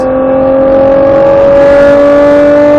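A Nissan Skyline GTR engine in a racing game climbs steadily under throttle, a loud, close, sustained tonal drone whose pitch slowly rises, with no talking over it.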